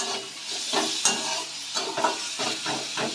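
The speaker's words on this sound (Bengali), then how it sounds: "টমেটোটাকে আমরা এখন এর মধ্যে দিচ্ছি" Chopped tomato tumbles into a curry frying in a pan and is stirred through, rhythmic scraping strokes recurring about every half second over a steady close sizzle.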